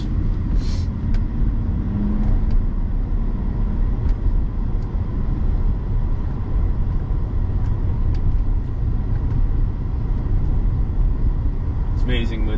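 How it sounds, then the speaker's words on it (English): Interior road noise of a car driving with its soft top up, a steady low rumble of engine and tires that stays constant and fairly loud throughout. "This is driving the car right now with the soft top."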